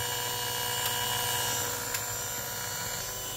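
A Daikin inverter air conditioner with air trapped in its pipes drones with a steady, rough mechanical whir without pause, with a faint airy hiss and a couple of brief clicks along the way.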